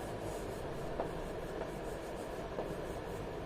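Someone writes on a board with a steady, faint scratching. A few soft taps stand out, and no one talks.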